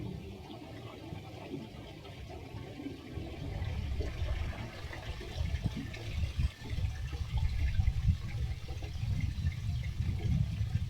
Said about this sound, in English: So I'm dumping the gray tank now.